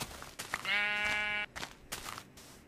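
Minecraft sheep bleat in a wavering, drawn-out baa lasting under a second, surrounded by soft short game thumps and clicks, quiet overall with no talking.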